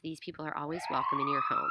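A siren rises and wails steadily underneath a person speaking, starting partway through and holding a rising tone.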